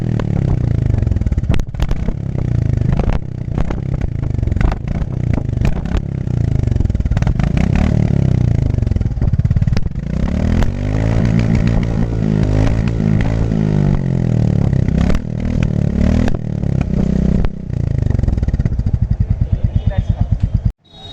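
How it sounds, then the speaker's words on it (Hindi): A new-generation Royal Enfield Classic 350 motorcycle runs its exhaust at close range for about twenty seconds, a steady loud thump with revs rising and falling in waves, then cutting off sharply at the end. "अभी मैं इसका एग्जॉस्ट नोट आपको सुनाऊंगा कि क्या डिफरेंस है 350 original classic versus the new generation classic में"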